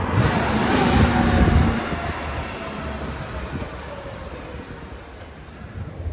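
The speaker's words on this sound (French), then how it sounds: "j'entends un bruit qui arrive. Ça paraît être quelque chose de pas mal. Ouais, c'est une ancienne Porsche" An old Porsche passing by on a street, a low engine rumble that swells to its loudest early on and then fades into steady background noise, no talking.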